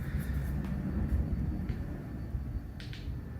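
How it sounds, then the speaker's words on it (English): A steady low rumble of an airplane passing overhead near an airport fills the background, continuous and fairly loud, with a few faint clicks on top. "you'll have to pardon the plane noise in the background"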